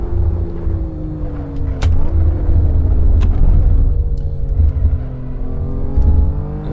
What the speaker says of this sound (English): I'm going to try and drive this BMW M3 as fast as one dares.